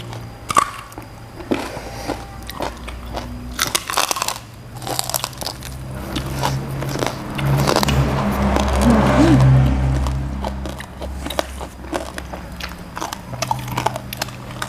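Crispy roasted pork being bitten and chewed, served with spicy som tam papaya salad: close, repeated crunching and crackling bites in irregular bursts, with a few faint background noises.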